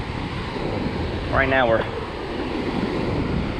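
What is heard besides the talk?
wind blowing on a lake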